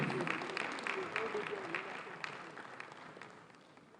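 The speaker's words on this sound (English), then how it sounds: "A round of applause for her, please." Audience at a Lagos State government event applauds, a steady wash of clapping at moderate level that gradually tapers, with a voice speaking over it.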